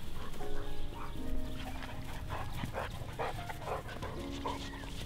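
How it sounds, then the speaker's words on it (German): Several dogs play together, letting out short barks, yelps and growling noises over a busy, continuous background. "Wie schaffe ich es jetzt, dass die Hunde mal aufhören zu spielen?"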